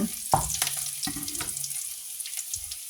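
Garlic fries in a pan until golden, giving a continuous sizzling hiss with a few clanks of a utensil against the pan near the start.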